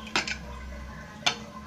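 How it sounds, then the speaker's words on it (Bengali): A lid on a pressure cooker holding mutton keema biryani is handled and lifted, giving two quick metallic clinks and then one more sharp clank over a faint steady hum. "5 মিনিট বাদে ঢাকাটা তুলি"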